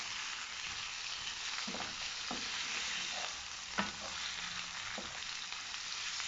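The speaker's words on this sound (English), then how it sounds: "I'm just gonna simply just stir it around to get the butter all over the potatoes" Red potatoes being stirred in melted butter in a pan, a soft continuous sizzle with several distinct scraping knocks of the utensil against the pan, quiet and close, no talking.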